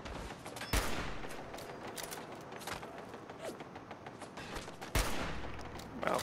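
Two sharp, loud sniper rifle cracks ring out in Fallout 4, spaced several seconds apart, over a steady background of game ambience and smaller scattered shots, with no talk.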